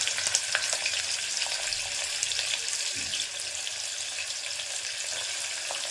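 Chopped large onion frying with cinnamon and cloves in an open pan, a steady loud sizzle filling the whole clip with occasional stirring scrapes and no voices.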